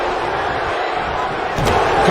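Crowd noise from a wrestling arena in a WWE video game, a steady roar of cheering spectators that swells louder near the end.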